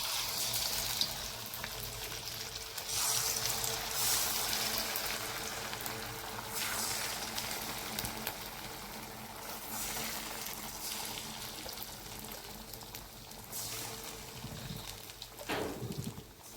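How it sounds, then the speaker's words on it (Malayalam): Chicken 65 pieces frying in hot coconut oil in a heated pan give a steady, close crackling sizzle that continues throughout, with a few brief clatters near the end. "അങ്ങനത്തെ ചട്ടി നല്ല ചൂടായി, നമ്മൾ എണ്ണ ഒഴിച്ചുകൊണ്ടിരിക്കുന്നു. അപ്പം നമ്മൾ വെളിച്ചെണ്ണയിലാട്ടോ പൊരിക്കുന്നത്"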